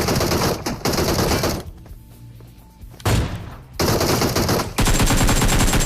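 In PUBG Mobile Lite, loud rapid automatic gunfire crackles in several bursts close by, with short quieter gaps between the volleys.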